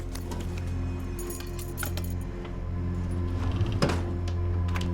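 Keys jangle in the film Don't Breathe, a few light metallic clinks and rattles over a low steady room hum, with a sharper jingle near the end.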